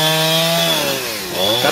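A chainsaw, a Husqvarna 365, cuts through wood, its engine holding a steady loud whine that dips as it bogs under load mid-cut and then rises again.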